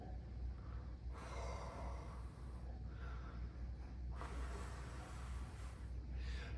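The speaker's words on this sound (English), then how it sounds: "we're going to try doing it incorrectly as if you're going to breathe out on O." Breathy exhalations shaped on an open O vowel, shown as the wrong way to blow for an alto saxophone embouchure; two soft, slow puffs of air, close and alone with no talking.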